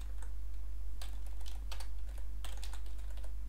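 Code is typed on a computer keyboard in uneven bursts of close, clicky keystrokes with short pauses between, over a steady low electrical hum and no talking.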